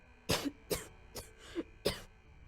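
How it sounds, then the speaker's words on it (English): A character in the video game Starfield gives five harsh coughs in an uneven series, close and fairly quiet, with brief silences between them. "That cough doesn't sound good at all."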